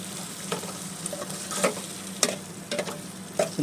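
Potato and onion pieces sizzle in a hot pan, with soft frying hiss underneath and intermittent scrapes and clicks of stirring at close range.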